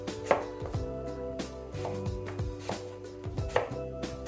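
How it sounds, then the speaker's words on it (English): A knife chops and slices an apple into semi-thin slices on a cutting board, giving a series of crisp, close cuts in an uneven rhythm with a few sharper knocks. "Chop up your apple and slice it into semi-thin slices."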